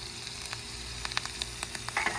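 Butter sizzles in a Salad-Master saute pan before gnocchi is added for browning, a faint crackling fry with scattered pops over a quiet kitchen background.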